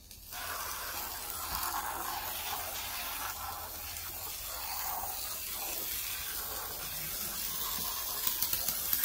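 Soudal flexible polyurethane foam jets from a pressurized can as a steady, close broadband hiss lasting the whole stretch, with no voices over it.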